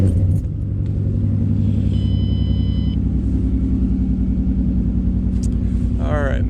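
Car engine cranking over and settling into a steady idle after an idle chop mod with a push-button switch was installed, a loud continuous low rumble under talk.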